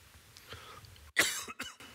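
A man coughing close by, a sharp loud burst followed by a couple of shorter coughs, with quiet background noise before it.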